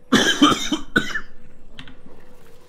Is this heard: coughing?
yes